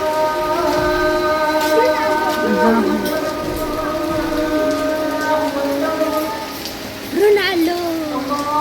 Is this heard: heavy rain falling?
yes